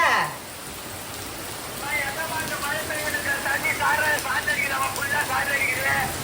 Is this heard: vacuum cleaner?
no